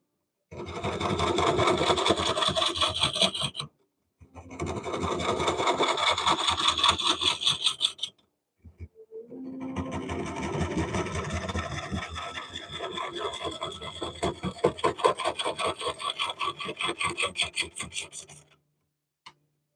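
Oak being turned on a wood lathe, a close, loud buzzing rasp that rattles in rapid pulses, running in long stretches broken by short silent pauses.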